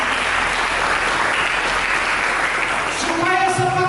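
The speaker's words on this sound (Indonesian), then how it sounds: "Mari kita berikan tepuk tangan bagi Yesus." Congregation at a church service applauding for Jesus, a dense, steady wash of clapping from many hands throughout, with a voice and sustained tones emerging near the end.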